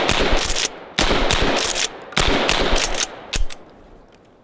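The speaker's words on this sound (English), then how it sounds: "This one's called the DP12. It holds 16 rounds of 12 gauge fully loaded." A DP12 12 gauge pump shotgun loaded with twelve rounds fires in rapid bursts, loud sharp blasts tightly grouped in four clusters, each ringing briefly before the next, ending with a fading echo.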